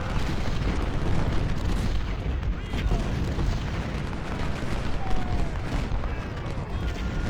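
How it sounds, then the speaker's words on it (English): Twenty-pounder artillery cannons fire in an Ultimate General Civil War battle at the Siege of Jackson, a dense, continuous rumble of booming shots blended into a steady roar of battlefield noise. "these 20-pounders will hit that guy."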